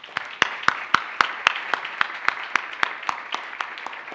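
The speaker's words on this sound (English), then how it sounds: "Help me welcome him to the stage with a big round of applause." Rhythmic clapping welcoming a speaker to the stage at a lecture event, with sharp regular claps standing out over a softer bed of applause, moderately distant.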